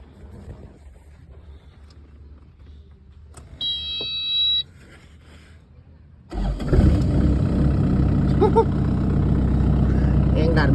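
After a quiet stretch with a brief electronic beep, the diesel engine of a Kubota KX155 excavator starts up and runs loud and close during a hydraulic pump pressure test, with a voice talking in the quiet opening.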